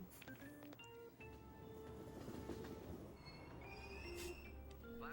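Subway train riding in Persona 5 Royal: a steady rolling rumble of the railcar with faint wheel clatter and occasional high squeals, continuous through the whole stretch at moderate level.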